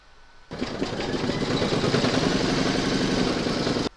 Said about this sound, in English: And now I can carry on stitching.